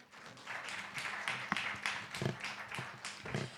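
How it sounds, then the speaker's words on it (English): Scattered, faint clapping from a small audience at a panel discussion, uneven individual claps with no voices over them. "Could we please have a round of applause for him?"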